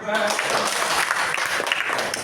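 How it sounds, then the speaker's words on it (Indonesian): Students clap together in a classroom during a lesson, brief lively applause with voices over it. "Kita tepuk tangan."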